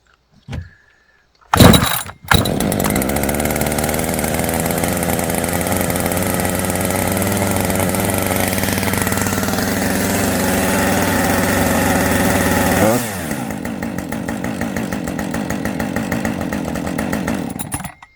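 A two-stroke chainsaw with the choke set gets a few sharp pull-cord tugs, then catches and runs loudly and steadily at a high warm-up idle, the engine note dropping and roughening a little near the end; no one speaks.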